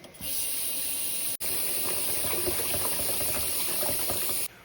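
Tap water runs steadily into a sink basin where doll clothes are set to soak with OxiClean, a continuous close splashing fill with a brief break early on, no voices.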